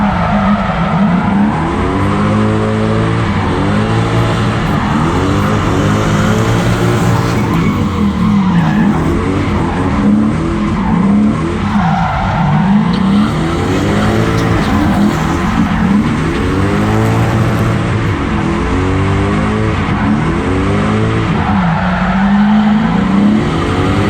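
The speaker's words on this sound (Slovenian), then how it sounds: "Ful je glasni spuh, pa rezonance po celem avtu, tako da bo treba težji zadnji lonec." A BMW E36 fitted with a Toyota 3UZ-FE V8 drives with a very loud exhaust, the engine droning and rising and falling in repeated revs throughout, close and continuous, with no talk.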